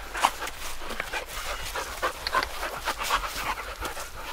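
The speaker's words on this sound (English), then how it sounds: "in Pripyat, stray dogs. Very friendly dogs" Stray dogs in Pripyat, in the Chernobyl zone, panting rapidly and rhythmically close by, with faint whimpers and soft snuffles mixed in, lasting a few seconds with no talking.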